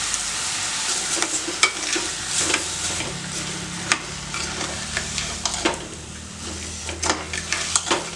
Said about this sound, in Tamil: காயை நல்லா வதக்கியாச்சு